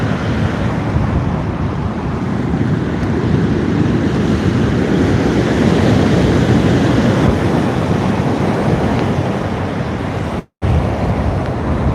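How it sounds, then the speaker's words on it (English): Ocean waves and wind heard from a kayak at sea form a loud, steady roar of surf and buffeting wind noise, with one brief dropout near the end and no talking. "everyone likes the sound of the ocean"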